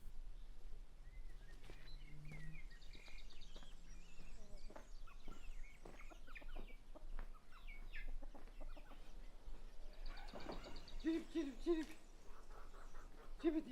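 Chickens cluck and murmur close by in a mountain village yard, with scattered soft calls and a brief louder burst of clucking, while a faint voice talks in the background over low outdoor ambience.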